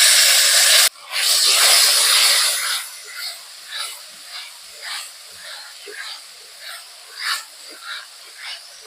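Ground spice paste hitting hot oil in a wok, a loud burst of hissing sizzle that settles into a softer, steady fry with rhythmic puffs of sputtering, no voices.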